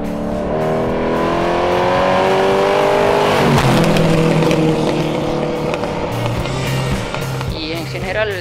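A restored 1969 Chevrolet Camaro SS with an engine tuned to roughly double its original power revs up loud and close, the pitch sweeping upward before settling into a rough, heavy growl for the rest of the stretch.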